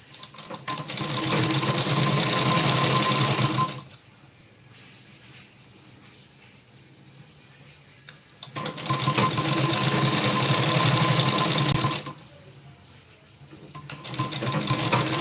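Domestic sewing machine double-stitching a blouse runs in two loud, fast whirring bursts of about four seconds each, separated by a quieter pause with faint insect-like buzzing in the room.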